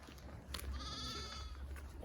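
Sheep and goats at a farm with container housing: a single wavering bleat rises out of steady rustling background noise, moderately close but not loud.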